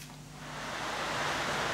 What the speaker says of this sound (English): there is a storm at the moment, which is all of the noise you can hear on the roof